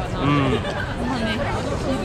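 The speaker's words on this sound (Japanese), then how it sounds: "渋谷のスクランブル交差点手前だから結構人が多くて" Dense crowd chatter from pedestrians just before the Shibuya scramble crossing in Tokyo at night, a steady babble of many voices close around, with a nearby person speaking over it.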